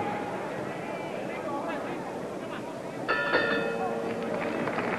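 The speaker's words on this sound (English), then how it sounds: "that's the bell for round 9" A boxing bell rings to end round 9 at a title fight in Las Vegas, several bright metallic rings sounding over crowd noise and commentary.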